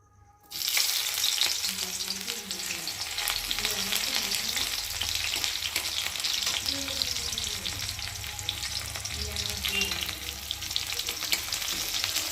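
Onion hits a hot pan for vegetable chowmein and breaks into a loud, steady close-up sizzle that carries on unbroken after the initial drop, with faint tonal background sounds beneath.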